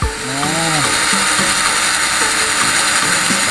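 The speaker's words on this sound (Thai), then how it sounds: "ใช้สว่านเจาะ รูเพื่อส่งน้ำ" An electric drill bores a drainage hole while a water cannon is built for Songkran, a loud continuous mechanical whir with a brief rising whine at the start and then a steady grinding buzz throughout.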